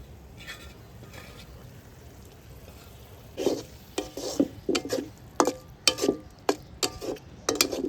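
Cleaned shing (stinging catfish) fry in a pan with a soft background sizzle, then a run of sharp stirring clacks and scrapes from about the midpoint, close and irregular, with no talking.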